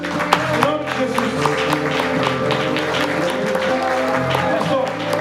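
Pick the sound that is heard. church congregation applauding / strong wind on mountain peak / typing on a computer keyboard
church congregation applauding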